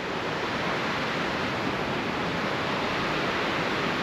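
Steady broadband rush of a small cascade in Saltaire, England, constant and fairly close with no other sounds.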